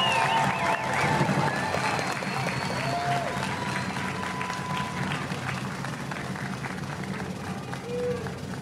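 A commencement audience applauding graduating veteran students, a dense sustained wash of clapping from a large crowd that slowly tapers, with some voices and faint cheers mixed in.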